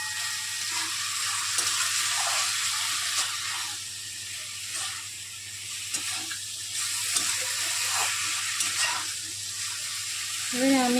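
Pumpkin and Malabar spinach curry fries in a pan, a steady loud sizzle with occasional stirring scrapes, while a voice speaks over it intermittently.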